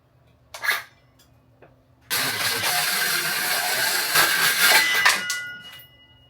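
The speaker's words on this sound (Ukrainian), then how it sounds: "Пилою трошки укорочую, все." Hand saw cutting a piece during a quick DIY fitting job, a steady rasping burst lasting about three seconds after a couple of short knocks, fairly close and loud, then tapering off.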